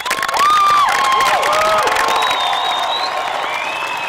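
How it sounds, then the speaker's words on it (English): A large audience applauds and cheers to greet the graduating class of 2005 at a South St. Paul high school graduation ceremony, with sustained, loud clapping mixed with whoops and shouts from the crowd throughout. "Would you please help me greet the class of 2005 with a huge round of applause?"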